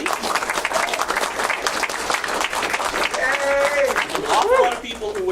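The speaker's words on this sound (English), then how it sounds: "then you can scream the applause they deserve" A crowd at a Commodore computer club anniversary gathering gives sustained, energetic applause with whoops and cheers, plus whistles and shouted voices rising near the end.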